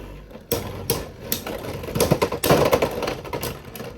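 A Beyblade X Sting Unicorn top ripped from its launcher into a stadium, followed by a string of sharp rattling clicks and knocks as it spins and strikes, close and fairly loud.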